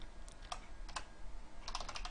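Quick clicking of keys on a computer keyboard, a few scattered taps and then a short burst of faster strokes, close and fairly quiet.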